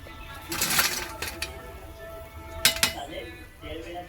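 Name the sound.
spoon stirring ridge gourd fritters frying in oil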